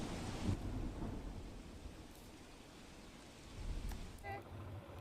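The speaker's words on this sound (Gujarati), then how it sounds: "વટવામાં વિરામ બાદ ફરી ધોધમાર વરસાદ" Steady heavy rain in Vatva, Ahmedabad, roars across the whole stretch with low rumbling underneath, broadband and constant, slightly swelling near the end.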